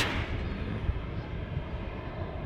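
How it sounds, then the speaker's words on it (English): A Ryanair Boeing 737 taxis at Manchester Airport, its engines giving a steady, broad distant roar and rumble with no voices over it. "Ryanair 737. Maybe gonna take the full length of the taxiway."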